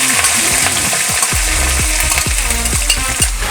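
Onions sauté loudly in hot oil with fenugreek seeds and curry leaves for a South Indian crab masala, a dense close sizzle cut by a regular series of sweeping spatula scrapes.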